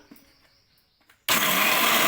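A kitchen mixer grinder starts abruptly on a jar of roasted peanuts and salt, running as a loud, steady whirring grind after a second of near silence with faint handling noises.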